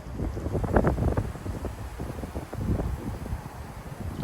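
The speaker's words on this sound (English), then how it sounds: "Let's see if we can catch another 50-mile-per-hour gust." Strong gusty wind from a cold front in Frisco, Texas, buffeting the microphone and outdoor surroundings with uneven roaring pulses of rumble, loud and close, no voices.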